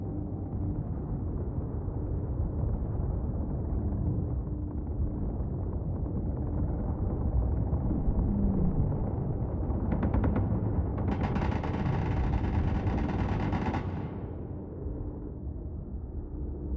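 Base turret in the video game Space Engineers fires at incoming warheads: a steady, dense rumble of blasts runs throughout, with a louder crackling burst of rapid fire in the middle before easing off.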